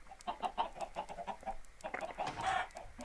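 A flock of chickens in a Minecraft chicken farm clucks in quick, overlapping bursts, close and fairly busy, with a louder squawk near the end and no talk.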